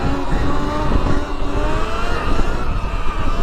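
2023 Sur Ron X electric dirt bike being ridden, a loud continuous motor whine mixed with rough tire and wind noise, close and sustained throughout.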